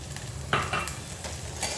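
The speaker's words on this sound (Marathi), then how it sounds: "वटाणा छान परतून घेते" Green peas sauté over low heat in a pan, soft sizzling broken by a few quick stirring scrapes of a spoon against the metal, close and without any talking.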